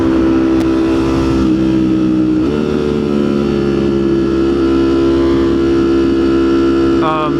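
Road traffic heard as a constant, loud engine drone and low rumble, with a brief rise in revving partway through and no distinct pass-bys.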